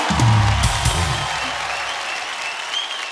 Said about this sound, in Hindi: सो एक बार जोरदार तालियां हो जाए आप सबके लिए।